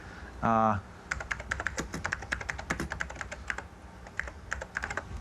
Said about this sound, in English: Now we can type into it